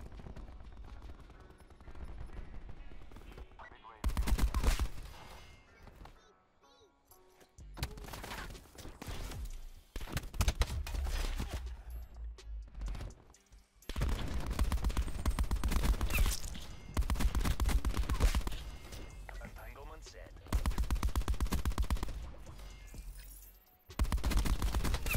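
A Dark Matter light machine gun in Call of Duty Black Ops 4 fires in long sustained bursts, loud and rapid, separated by short pauses and quieter stretches.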